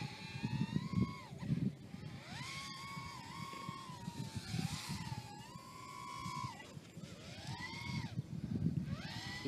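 BISON 150mm micro FPV racing drone in flight on a 3S battery, its motors whining and rising and falling in pitch as the throttle changes, over a low rumbling background that fills the whole stretch.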